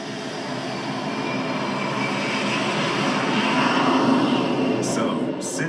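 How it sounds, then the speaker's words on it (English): Jet engine roar from an IMAX film intro played through a Hisense 4K UHD TV, a loud broad rushing thunder that swells steadily and holds for several seconds. "to the thunder of a jet engine."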